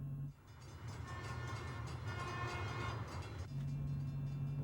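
A train passes a road crossing on a driving route, its horn sounding as steady tones over a loud, continuous rail rumble with no talking.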